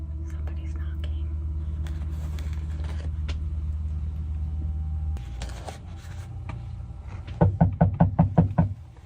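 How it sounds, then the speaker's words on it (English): Knocking on the side of a camper van parked on a city street: a steady engine-like rumble fades out, then a run of about seven sharp, evenly spaced knocks sounds close and loud, with soft whispering earlier. "Somebody's knocking."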